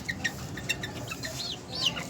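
A Golden Sebright hen clucks in short, close, repeated notes, with a brief rising cackle near the end over faint farmyard background.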